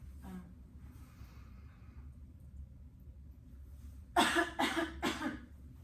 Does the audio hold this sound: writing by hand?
no